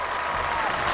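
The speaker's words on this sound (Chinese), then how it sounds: "让我们掌声欢迎一下欢天喜地七仙女" Studio audience applause at a Chinese television variety show, a dense, steady patter of clapping holding at an even level for about a second with no voices on top.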